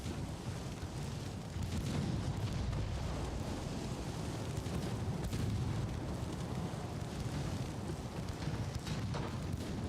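Torpedoes strike the stern of an enemy warship in the naval battle game Ultimate Admiral: Dreadnoughts, producing a continuous heavy low rumble of explosions with rolling booms and no clear gaps, and no speech.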